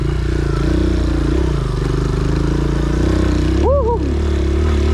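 A stock motorcycle laboring up a deep, soft mountain trail in Tarlac, its engine droning loud and close with steady rumble, a brief rising whistle-like tone near the end.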